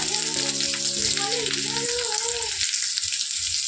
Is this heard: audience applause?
no